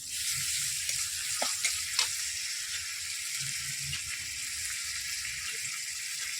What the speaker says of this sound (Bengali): পেঁয়াজটা এবার বাদামি বাদামি হয়ে যাচ্ছে, এর মধ্যে দিয়ে দিলাম আদা বাটা